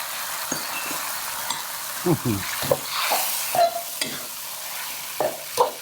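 Food hisses and sizzles in hot oil with scraping stirs and clinks of a utensil, punctuated by brief bursts of sizzle, as a Thai mee krob sauce of coconut sugar and fish sauce cooks.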